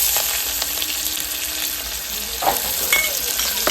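Curry leaves, green chilies and tomatoes fry in oil in a pan with a loud, steady sizzle while a spoon stirs them, adding a few scraping knocks, close by.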